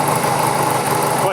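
Honda Rebel 250 motorcycle fitted with an Emgo slip-on muffler idles steadily, a loud continuous engine rumble close by with no change in pace throughout.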